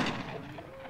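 Shotgun blast in the Project Zomboid video game, a single loud boom at the start that fades quickly into a short rumbling tail.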